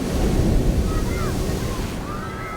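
Ocean surf rolls in with a loud low rumble, wind buffeting the microphone, and faint high tones drifting over the water noise.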